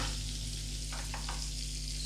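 About two spoons of butter heat over a medium flame in a pan for shallow frying paneer, making a soft, continuous sizzle under a low hum.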